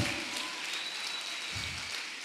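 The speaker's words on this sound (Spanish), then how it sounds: "Dele un aplauso al Señor Jesús." Congregation applause at a church service, continuous dense clapping from a crowd filling the room, steady and moderately loud with faint voices underneath.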